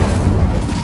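An Incendio fire spell from a Hogwarts video game produces a dense, loud roaring whoosh of flame lasting under a second, steady throughout with no speech.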